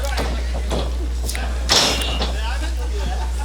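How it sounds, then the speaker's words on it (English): A heavy body thud lands on a wrestling ring at an underground wrestling event amid steady crowd noise and commentary, one loud impact standing out from the din. "Did you hear that thud?"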